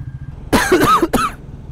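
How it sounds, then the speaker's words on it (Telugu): Two or three harsh coughs close by, a quick pair followed by one more, against a low steady hum. "అది దగ్గు కూడా స్టార్ట్ అయిపోయింది"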